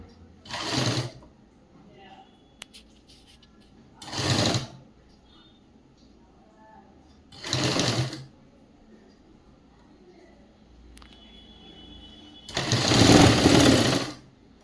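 A sewing machine stitches a girl's government school uniform skirt in four short whirring bursts separated by quiet pauses, the last burst longest and loudest.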